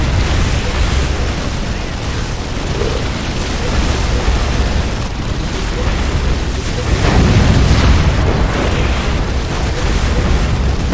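Missile explosions boom and crackle in a dense, continuous wall of battle noise in the Dawn of War Unification mod strategy game, loud and close, with a heavier surge of blasts near the end.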